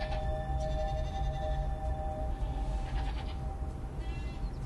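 A goat bleats in a steady, wavering drone over a dense background, with faint higher tonal bleats near the end.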